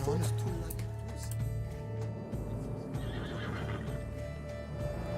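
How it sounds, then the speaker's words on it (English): A white horse in The Witcher 3: Blood and Wine gives a loud neigh at the start, then its hooves clop under a steady ambient bed as the scene continues. "Pretty white horse."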